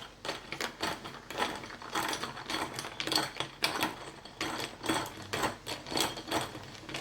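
Dalgona coffee being whipped by hand in a bowl, making a rapid, continuous clattering whisk rhythm with repeated bursts, close up with no talk.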